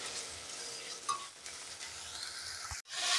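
Whole gandal leaves and two chillies sizzling and frying in hot oil in a pan, a steady close crackle with brief stirring clatter and a short break near the end.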